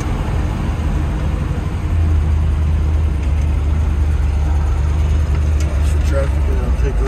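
A 1966 Chevrolet Corvette convertible drives along a road in traffic, its engine giving a steady, loud low rumble that swells slightly partway through.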